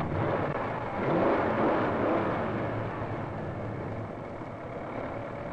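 A newly built car engine runs on a factory hot test stand at the Rouge plant in the 1960s, giving a rough, steady mechanical drone that swells briefly before settling at a moderate level.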